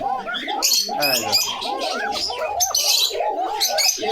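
Fancy deshi pigeons at a pigeon-keeping loft coo continuously with thin, high-pitched calls, close and overlapping, while someone talks over them.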